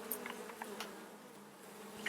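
Honey bees buzz at the entrance of a hive that is raising a queen after a split, a faint, steady hum with small flickers as individual bees fly past, heard without any talking.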